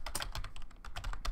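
Rapid typing on a computer keyboard during an online typing game, a dense close-up patter of key clicks at an uneven quick rhythm with no voices.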